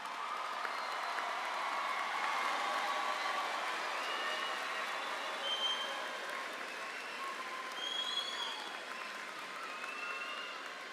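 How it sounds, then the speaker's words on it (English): Sustained applause from a high school graduation crowd rolls on evenly for the band, a thick, distant-sounding wash of clapping with faint scattered cheers and no speech. "Can we give a big round of applause to our band?"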